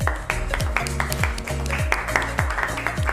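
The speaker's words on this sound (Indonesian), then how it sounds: "tepuk tangan buat Arini." A class applauds together, a dense run of handclaps that holds steady for a few seconds at close range.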